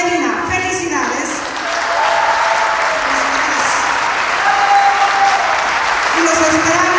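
Loud crowd applause and cheering for a band at a concert during the 21st Festival Cultural Zacatecas, with a voice speaking over the steady clapping.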